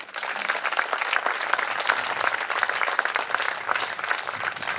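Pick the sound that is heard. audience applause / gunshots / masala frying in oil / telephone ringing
audience applause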